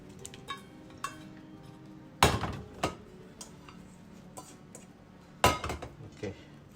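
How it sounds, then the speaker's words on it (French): Utensils mix seafood terrine ingredients in a bowl: scattered clinks and taps, with two sharp, loud scrapes against the dish amid quieter, irregular knocks nearby. "on va tout mélanger"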